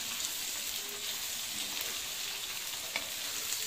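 Tomatoes and curry leaves sautéing in hot oil for a tomato thokku, giving a steady, close, even sizzle and crackle with no talking.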